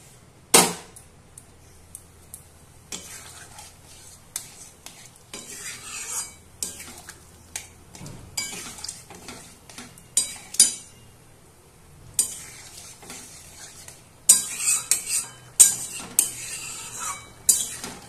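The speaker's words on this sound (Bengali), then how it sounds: "এই পর্যায়ে আমি এই গরম করে রাখা জলটুকু আস্তে আস্তে এখানে মিশিয়ে দিচ্ছি।" Warm water being stirred slowly into fig and yogurt curry in a pan, with sporadic spoon scrapes and clinks against the metal, occasional louder knocks and faint sizzling between quieter pauses, no talking.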